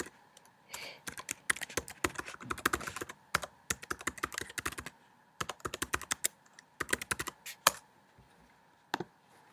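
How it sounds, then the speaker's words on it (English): Rapid, uneven clatter of keys as a password is typed on a computer keyboard, close and clear, in several bursts separated by short pauses. "Oh, wrong password. Let's try again."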